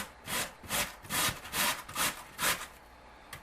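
Raw potatoes are grated by hand on a grater, giving about seven quick, even rasping strokes close up, then a brief pause before one last short scrape.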